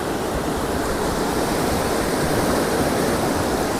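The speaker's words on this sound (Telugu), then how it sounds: "వాటర్ రాళ్ళని కొడుతున్న సౌండ్ దుబ్ దుబ్ దుబ్ అని వస్తుంది నాకు" Water in a forest stream rushes over rocks with a constant, loud, close roar and no pauses.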